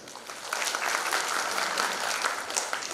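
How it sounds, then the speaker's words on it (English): Conference audience at a solar and wind energy congress gives a round of applause. The clapping swells and holds as a lively patter of many hands, moderately loud and close. "Please get a big applause again."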